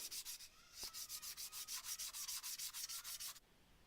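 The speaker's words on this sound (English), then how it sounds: "then I gave it all a hand sanding to make it nice and smooth." Rhythmic back-and-forth rasping of sandpaper on scrap wood, hand sanding about a dozen quick strokes close up, then it stops.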